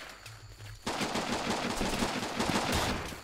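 Rapid automatic gunfire at point-blank range in the shooter game Running with Rifles, a quiet lull suddenly giving way to a dense, loud stream of shots that continues to the end.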